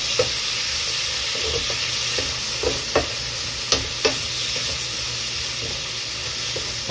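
Cabbage sautés in a hot pan with fried milkfish nearby, a loud continuous sizzle broken by scattered spatula taps and scrapes at an unhurried pace.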